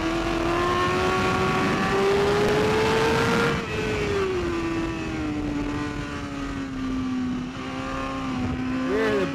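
A motorcycle laps a racetrack at a trackday, its engine holding a steady loud drone that rises and falls slightly with throttle while the rear suspension hops over bumps; no talking.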